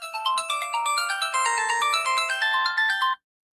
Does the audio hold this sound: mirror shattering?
no